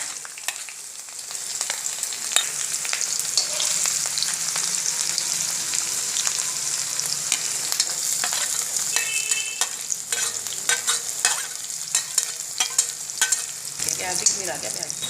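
Garlic, ginger and green chili frying in a hot pan, a steady close sizzle with occasional sharp crackles and spatula stirring clicks throughout, no talking.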